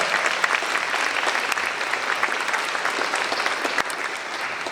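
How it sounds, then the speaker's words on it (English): An audience at the Ocean County Teacher of the Year 2024 event applauds in a dense, steady wash of clapping that stays loud and even throughout, with no one speaking over it. "So big round of applause to everyone in Toms River."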